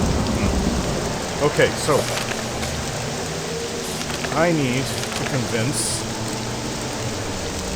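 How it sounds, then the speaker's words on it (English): Rain and thunder in an Elder Scrolls-style role-playing game set around Caldera: a steady, close hiss of rainfall with low rumbles underneath, while someone talks over it. "Late and it's thunder and lightning, rain, storm."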